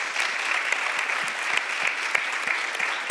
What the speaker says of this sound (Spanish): a Bego de nuevo, a Celeste, a María, un aplauso para ellas, por favor